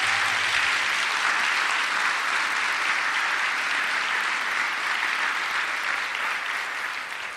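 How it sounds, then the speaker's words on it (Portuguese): An audience applauds at a religious gathering, sustained dense clapping that stays loud and even for several seconds before tapering slightly at the end, with no talking over it. "porque eu quero ver você aplaudindo ela."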